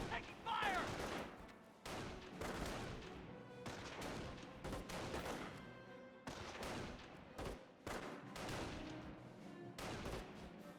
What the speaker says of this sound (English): Rifle squad taking fire.